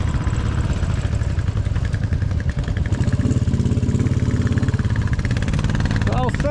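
A Royal Enfield motorcycle engine pulls hard up a hill, a steady thumping drone with a fitted Kent cam, rising slightly as it climbs, with someone talking over it throughout.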